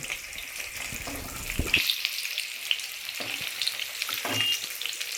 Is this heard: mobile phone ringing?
no